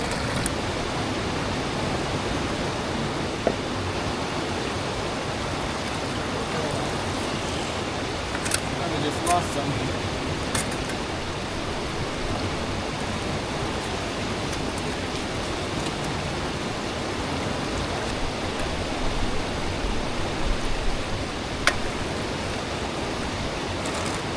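Water runs steadily through a small gold-prospecting sluice, a continuous even rushing wash with occasional faint clicks of gravel, unbroken for the whole stretch.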